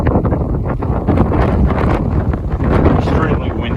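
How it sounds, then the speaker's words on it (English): Heavy wind from the north buffeting the microphone on a hiking trail at Lehigh Gap, in loud, continuous low rumbling gusts that swamp everything else. "Extremely windy here."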